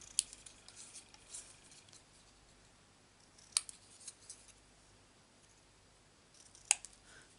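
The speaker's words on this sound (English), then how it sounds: "cut the corners." Scissors snip the corners off a papercraft piece: three sharp, crisp cuts spaced a few seconds apart, close and distinct over a quiet room background with no talking.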